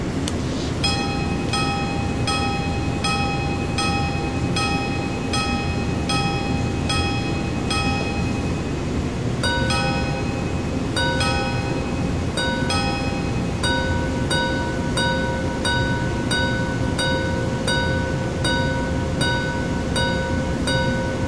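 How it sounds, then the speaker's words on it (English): A 40-jewel minute repeater watch strikes its gongs in a repeating series of thin, bright metallic chimes, the pitch pattern shifting partway through. A steady loud hiss sits underneath the chimes, which are close but light. "hear the gongs from the side."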